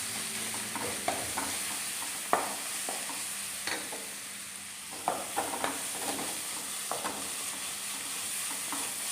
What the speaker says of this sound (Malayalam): ഇതേ നമ്മുടെ ജിഞ്ചർ ഗാർലിക് പേസ്റ്റും കൂടെ നമ്മൾ ഇതിനകത്തേക്കൊന്ന് മിക്സ് ചെയ്ത് കൊടുക്കും നമ്മുടെ എണ്ണയ്ക്കകത്തേക്ക്